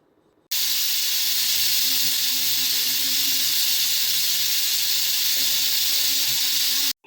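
A steady, loud hiss of steam escaping under pressure from a pressure cooker cooking mutton pulao on a stove runs continuously for several seconds, then cuts off abruptly, with a faint low rumble beneath.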